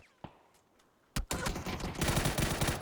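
Gunfire in the battle-royale game PUBG during a competitive league match: a quiet opening with a lone shot, then loud, rapid automatic bursts cracking densely through the final second and a half.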